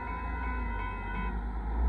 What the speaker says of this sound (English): There goes our northbound KCSM out of the Mexico grain train